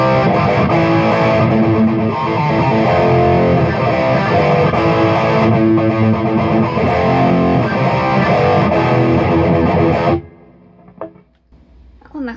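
A Marshall JVM410H guitar amplifier boosted by a TDC 008 Mild Blues pedal rings out loud and sustained with a thick, driven electric guitar tone for about ten seconds, then cuts off into near silence.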